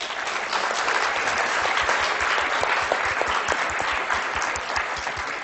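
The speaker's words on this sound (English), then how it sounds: "let's give them a round of applause" A lecture audience gives the presenting teams a round of applause, sustained dense clapping from many hands at moderate loudness, tapering slightly near the end, with no speech over it.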